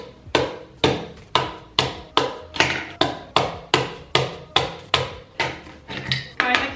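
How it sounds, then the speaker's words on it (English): A knife is hammered into the lid of a can, about a dozen sharp metallic knocks at an even pace roughly every half second, loud and close, with no one speaking. "I didn't have a can opener and I would just use a knife and like hammer it down"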